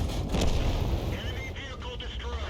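Tank cannon fire in a World War II tank video game with an M36 Jackson and M4A3E8 Thunderbolt VII in battle: loud sustained booming blast with rumbling low end, continuous through the short span, a voice talking underneath.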